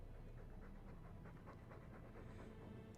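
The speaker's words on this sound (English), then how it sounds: "when a dog's panting like that" A dog panting in the Dragon Age 2 game, rapid, even breaths repeating at a steady pace, soft and continuous with no pauses.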